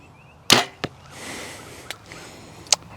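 A Sanlida Dragon X10 compound bow looses an arrow with a sharp, loud release crack, a quick second thump, and faint later ticks in a quiet indoor space.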